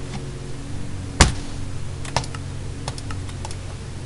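Close-up typing on a computer keyboard, with one sharp louder key press such as Escape followed by a scattered run of lighter clicking keystrokes.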